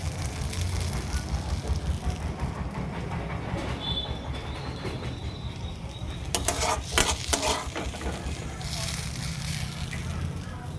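Fried onions are stirred into pointed gourd in a hot pan. A continuous loud sizzle runs throughout, with a burst of scraping spatula strokes partway through.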